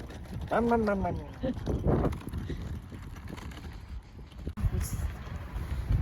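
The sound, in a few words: wind blowing on the microphone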